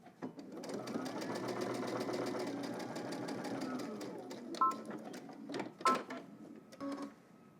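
A sewing machine runs a basting stitch on baggy jeans, a steady rapid whirring patter that carries on for several seconds, then slows into short uneven bursts with small clicks near the end.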